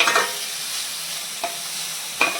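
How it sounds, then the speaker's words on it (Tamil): Garlic and onion sauté in about three spoons of hot oil in a kadai, a steady close sizzle broken by a few sharp stirring scrapes. "கார்லிக்கும் ஆனியனும் நல்லா வதங்கட்டும்."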